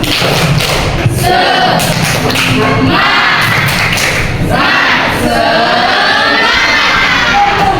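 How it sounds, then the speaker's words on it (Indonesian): Schoolchildren in an Indonesian classroom do a rhythmic spirit clap chant, with loud, steady bursts of clapping and thumping mixed with shouted young voices throughout. "Tepuk semangat."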